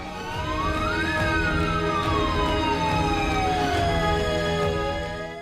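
A wailing emergency siren from a converted private car now serving as a Covid ambulance rises and falls in long sweeping tones, loud and continuous with a steady engine hum beneath.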